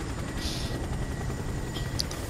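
A GCPD police helicopter in the video game Gotham Knights gives a continuous rotor drone and whir, steady and fairly loud under a low rumble, with no talk.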